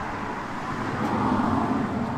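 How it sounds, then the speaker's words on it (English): A single car drives past on a quiet rural road in the North Pennine Hills of Northumberland, its engine and tyre roar rising gently and swelling near the middle before easing slightly, with no one talking. "Wait for the car to go past."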